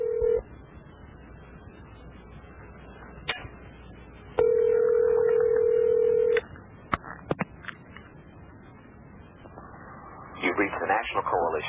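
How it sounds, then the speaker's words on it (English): A telephone call is placed over a line: a dial tone hums, touch-tone digits beep, and a long ringback tone sounds, with clicks and line noise throughout and a voice beginning near the end. "I tried to call that guy to get him on this show"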